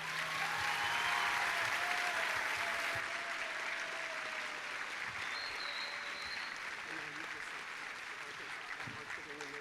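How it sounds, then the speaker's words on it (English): Applause from an audience at a heritage commitment ceremony for scholarship recipients, a faint, dense wash of clapping that carries on steadily throughout, heard from a distance in a large hall. "Could we have a round of applause?"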